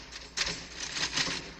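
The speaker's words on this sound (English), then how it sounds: "you hear me typing." Quick clattering keystrokes in uneven bursts, fairly close, with no voices.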